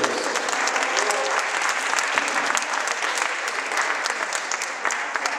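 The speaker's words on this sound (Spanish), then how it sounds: "Por favor, un aplauso para ellos." Steady audience applause fills the room, dense and sustained clapping from a seated crowd at a community cultural event, continuing evenly for several seconds without pause.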